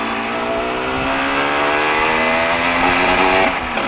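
A motorcycle riding on the road with its engine running, a loud, steady engine drone whose pitch rises slightly as it accelerates, heard close with wind noise.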